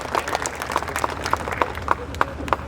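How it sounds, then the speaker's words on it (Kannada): An audience at a Christmas gathering claps for guests, dense applause with one clap pattern repeating at a steady beat above the crowd. "ಮಗದೊಮ್ಮೆ ತಾವೆಲ್ಲರೂ ಜೋರಾಗಿ ಕೈ ಚಪ್ಪಾಳೆ ತಟ್ಟಿ ಅವರನ್ನು ಅಭಿನಂದಿಸು"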